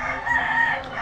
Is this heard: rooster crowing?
yes